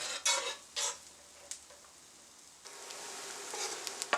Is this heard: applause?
no